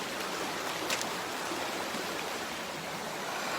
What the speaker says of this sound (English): It is just the creek.